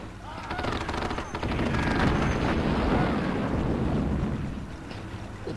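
Artillery fire in the WWII strategy game Sudden Strike, a World War II German campaign mission with Katyusha rockets: a dense, continuous barrage of rumbling blasts and crackling gunfire, fairly faint and sustained across several seconds.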